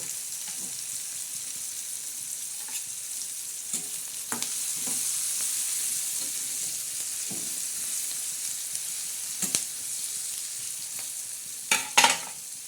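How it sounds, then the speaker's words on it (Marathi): Tomatoes fry gently in a pan for a spicy Maharashtrian sev bhaji, a soft continuous sizzle with occasional scrapes and clinks of stirring, close but quiet, no voices. "हे बघा टमाटर जे आता फ्राय करत आहे आपण"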